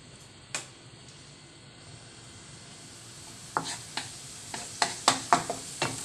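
Curry leaves dropped into a pan of sizzling onion, tomato, garlic and ginger, a soft steady fry hiss broken by a sharp clatter early on and a rapid run of spoon scrapes and stirring knocks toward the end.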